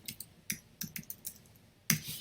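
Scattered keystrokes tapped on a computer keyboard while entering text into charting software, sparse and fairly quiet, ending in a slightly louder burst of clicks.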